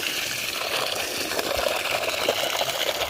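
Water gushes steadily from a newly drilled borewell on a farm in Chhattisgarh, a loud continuous rushing flow with no break.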